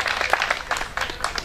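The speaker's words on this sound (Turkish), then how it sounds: "Ama alkış çok az geliyor ya." Thin, scattered applause from a small crowd at a village association picnic in Sivas, Turkey, light and uneven claps continuing steadily without much energy.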